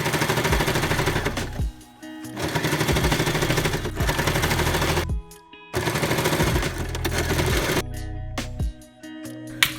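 A sewing machine runs in fast continuous stitching bursts while sewing the hood lining of a child's winter cocoon overall, stopping briefly between runs before starting again, loud and close with no talk.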